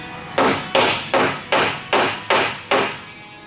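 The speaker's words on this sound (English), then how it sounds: "we're hammering them down to make them look factory stock" Hammer blows set rivets on the steel roof of a Toyota Land Cruiser BJ42 restoration, seven sharp ringing metallic strikes in a steady rhythm, close and loud, with no voices.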